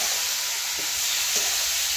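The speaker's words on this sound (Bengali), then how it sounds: "আলু একটু বেশি করে ভাজা করতে" Potatoes frying in a pan give a steady, even sizzling hiss with two faint stirring knocks. There is no talk.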